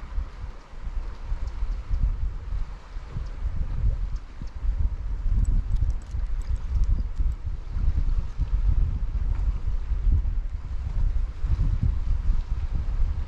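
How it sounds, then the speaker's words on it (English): Strong wind blows around the coastal cliffs near Whitehead, County Antrim, as a steady, loud, low rumbling roar that buffets the microphone throughout, with no voices. "Right away the wind's hitting them cliffs and funneling around"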